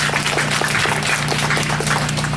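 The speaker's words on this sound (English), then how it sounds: "Please join me in giving him another round of applause." Audience applause at an apartment groundbreaking ceremony, a steady dense wash of many hands clapping at even loudness throughout, with a low hum underneath.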